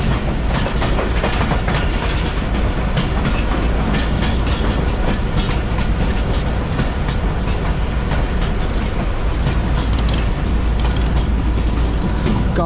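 A Mohen Jo Daro passenger train rumbles steadily past at close range through a railway station in Sindh, a loud continuous roar with rhythmic rattling and clatter of the cars throughout.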